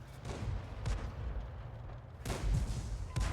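Artillery fire from a 105 leFH18B2 in a video game: a few heavy booming blasts spaced a second or so apart over a steady low rumble, with no voices.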